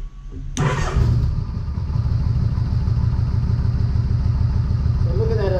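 A motorcycle engine starts up and settles into a steady, close idle with a throbbing low pulse, running continuously during a check of the bike's charging system for overcharging.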